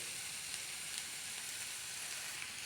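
Even, quiet hiss of a tomato sambar base with coriander leaves frying in a pan, a constant sizzle with no talk.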